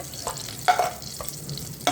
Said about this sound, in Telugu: ఇలా మన ఎగ్స్ వేగినప్పుడు చిటికెడంత పసుపు వేయండి.